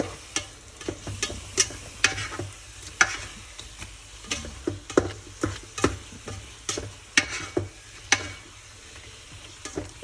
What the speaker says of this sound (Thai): ผัดฟักทองนะครับ